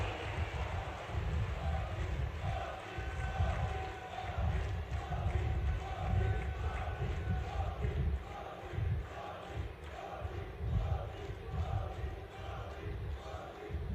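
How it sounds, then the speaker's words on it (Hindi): A large crowd applauds the Prime Minister, Narendra Modi, at a public event in Gwalior, a dense, continuous roar that stays loud throughout. "जोरदार तालियां हाथ ऊपर करके माननीय प्रधानमंत्री जी के लिए।"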